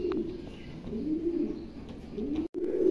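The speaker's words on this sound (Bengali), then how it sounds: "এটা হচ্ছে আপনার 8 খিলের কবুতর, 8 খিল 9 খিলের কবুতর" A pigeon coos near the microphone in a bird market, soft throaty rolling calls repeating over a few seconds with a brief dropout near the end; no one speaks.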